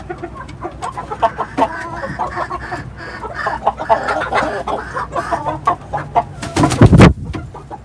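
Roosters and hens in a farm coop give a busy stream of clucks and calls close by, rising to a loud crowing burst near the end, with no talking.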